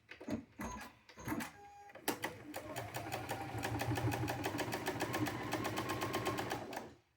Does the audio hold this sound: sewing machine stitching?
yes